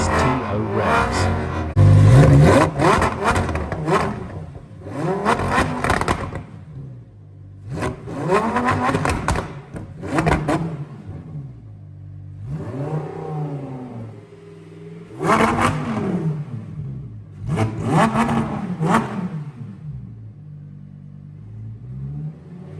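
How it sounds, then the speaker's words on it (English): Lamborghini Huracan STO engine revved in repeated loud bursts, each blip rising and falling sharply with short quiet gaps between, roughly six or seven clusters heard close with no talk. "Lamborghini Huracan STO revs."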